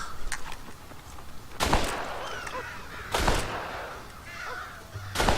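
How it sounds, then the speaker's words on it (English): Crows caw in short harsh bursts around a corn silo in the video game Red Dead Redemption, several calls spaced a second or two apart over a quiet outdoor background. "They've broken into the silo again and are eating all the corn out from it."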